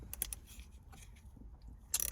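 Ratcheting clicks from a wrench turning 13 mm bolts on the shifter of a Shelby GT500 with a TR6060 transmission, faint and close, ending in a quick louder burst of clicks.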